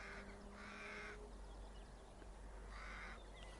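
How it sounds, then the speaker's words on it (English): Crows cawing overhead above a tidal marsh at low tide, a few harsh calls in two short bursts, fairly faint over a quiet outdoor background. "Crows making a bit of a noise overhead."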